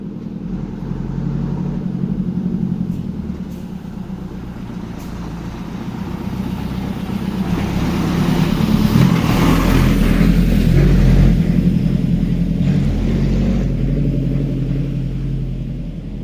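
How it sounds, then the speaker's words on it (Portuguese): A truck's engine rumbles and swells as it maneuvers slowly between parked cars on a flooded street, a steady loud low drone that builds midway and eases off, with no talking. "Agora vem vindo um caminhão, né? O caminhão ele vai ter que passar no meio dos carros."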